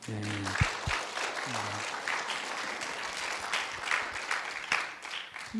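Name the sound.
applause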